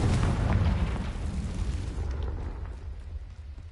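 Fire spells cast in a video game burst out as a loud, rumbling boom that rolls on for a few seconds and then slowly fades into a low, continuous roar.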